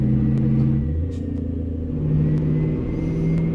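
A Mack Cruiseliner truck with a 12-speed Maxitorque transmission rolls along in American Truck Simulator at about 2,400 RPM, giving a deep, steady diesel drone with slight swells in pitch, close and continuous with no talking.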